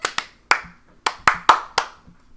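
A few people clap sharply and close by in a handful of separate, uneven claps, about seven in two seconds, with brief silence between them and no talk.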